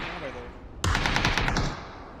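Gunfire in the battle royale game PUBG during a championship match: a sudden loud burst of about seven quick shots that cuts in after a quiet stretch with faint talk, then fades to a low background.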